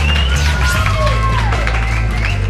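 A live event audience at the Chalice 2016 festival applauds and cheers for a performer, a steady, dense wash of clapping and crowd noise with whistles and shouts over a low music bed, loud and continuous throughout.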